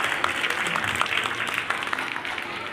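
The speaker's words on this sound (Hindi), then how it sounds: "जोरदार तालियां बजाएंगे।" Audience applause at a school annual function, a steady dense clapping from a large crowd sustained throughout with no pauses.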